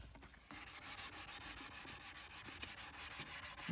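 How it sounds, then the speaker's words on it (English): Steady, close rubbing strokes of sandpaper smoothing a repaired wooden guitar neck, continuous and rhythmic with no talk. "I want to sand it down a little bit more, get it good and smooth,"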